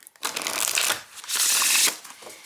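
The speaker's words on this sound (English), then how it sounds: "the linen cardstock at Make Playing Cards does shuffle like a dream" Linen-finish cardstock oracle cards from Make Playing Cards are shuffled in two bursts. Each burst is a crisp, rapid riffling flutter, close and loud, with a short pause between them.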